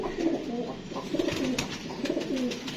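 Pet pigeons cooing in a loft, soft repeated low throaty coos in rolling phrases, close by, with faint rustling and clicks around them and no talking.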